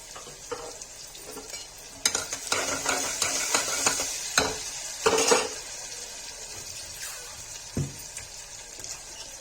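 Green chillies are stirred as they fry in a pan for a Kashmiri lauki do pyaza. The sizzle is punctuated by sharp scrapes and clinks of a metal spoon against the pan, in bursts of stirring with pauses between.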